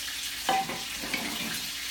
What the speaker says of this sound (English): you've got a nice sear going already on the fillet